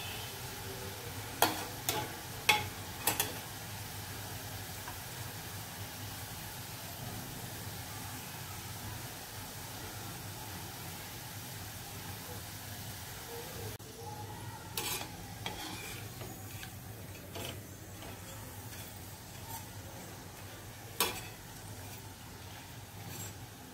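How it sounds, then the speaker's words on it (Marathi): Sev frying in hot oil, a faint steady bubbling hiss in the background with a few sharp metallic clinks of a utensil against the pan near the start and middle. "सर्व बाजूने अशी चांगली फ्राय करून घ्यायची आहे।"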